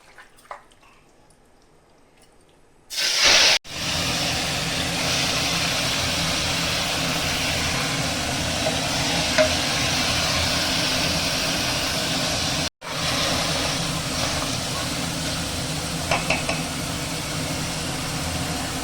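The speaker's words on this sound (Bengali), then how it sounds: "তেলটা গরম হয়ে গেছে, আমি এখন মাংসটা দিয়ে দিব।" Mutton pieces dropped into hot mustard oil in a pressure cooker burst into a loud, steady sizzle after a brief quiet start, hissing continuously with one short dropout midway.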